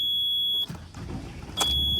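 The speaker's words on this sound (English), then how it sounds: "And then back to the off position, and then on it'll beep." A yacht's engine ignition panel gives a steady, piercing electronic beep that cuts off partway through, then sounds again near the end, close and clear over low background rumble.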